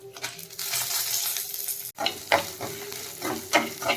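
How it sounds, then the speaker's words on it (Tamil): Chana dal and urad dal crackle in hot oil, a bright steady sizzle followed by a sharp clatter and then rhythmic stirring scrapes against the pan, close and fairly loud. "நல்லா வறுத்துக்கணும் கலர் சேஞ்ச் ஆகிற அளவுக்கு"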